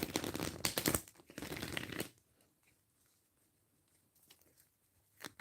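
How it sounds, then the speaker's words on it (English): Tarot cards being shuffled by hand, a quick riffling patter for about two seconds, close and fairly soft, followed by near silence and a brief rustle at the end. "Let me just shuffle the cards."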